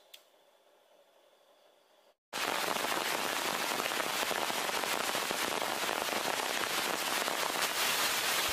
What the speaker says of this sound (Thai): เราเลี่ยงไม่ได้ที่จะเจอกับสายฝนในตอนมารีวิวแล้วก็ทดสอบไฟฉายนะครับ